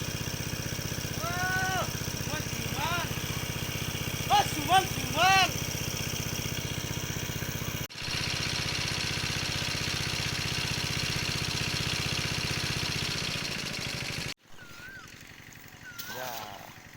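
A motorcycle engine rigged to pump water from a village fish pond drones steadily under people talking, then cuts out abruptly near the end.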